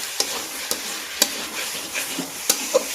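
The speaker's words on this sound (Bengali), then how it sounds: "আলুটা দেওয়ার পর আমি এটা ভালো করে মাখিয়ে নেব।" Fried potatoes are stirred and mixed in a cooking pan for a Bengali-style chicken ghugni, the spoon scraping and clacking against the pan at irregular intervals over a steady background sizzle.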